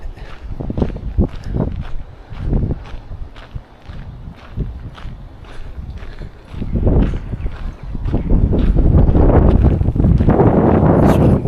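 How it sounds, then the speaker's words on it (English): Strong gusty wind on a rail-trail buffets the microphone in low roaring bursts while footsteps crunch along the path, with the wind rising to a heavy, sustained rumble toward the end. "It's really windy today."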